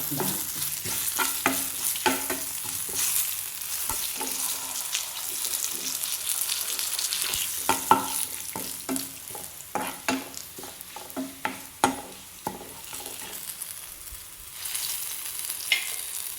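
Shallots, mustard seeds, dried chilli and curry leaves fry in hot oil, a steady crackling sizzle broken by repeated clinks and scrapes of stirring and seeds popping throughout.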